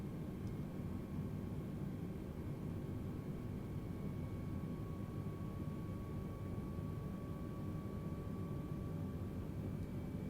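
An Airbus A320 Neo airliner on approach in Microsoft Flight Simulator gives off a steady, unbroken engine roar with a faint high whine, even and moderately loud for the whole stretch with no voices.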